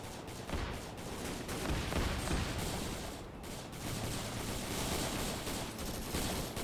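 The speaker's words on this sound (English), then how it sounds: "rocket just got fired close by" A rocket firing close by in the Arma 3 Vietnam-era combat game, heard as a dense, sustained barrage of blasts and gunfire filling the whole stretch at steady loudness, with no voices.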